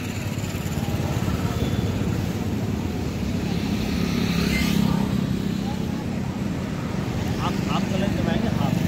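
An Eicher 551 50 hp tractor engine runs with a steady low rumble throughout, loud and close, with a slight rise in the middle and some faint clicks near the end.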